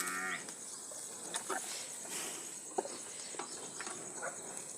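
A cow on a farm, sick with fever and being fed green grass with a medicine tablet, lets out one clear, fairly close moo at the start, followed by soft rustling and handling noises.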